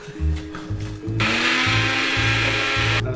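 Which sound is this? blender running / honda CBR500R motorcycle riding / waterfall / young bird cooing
blender running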